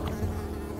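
Buzzing insects from the video game Unravel, a steady close drone with a low hum underneath, continuous for under a second with no talking.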